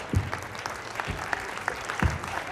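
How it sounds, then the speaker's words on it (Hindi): Loud applause from an audience at a college annual fiesta stage show, with broad hand clapping and a few sharper low thumps over about two and a half seconds. "बहुत जोरदार तालियां"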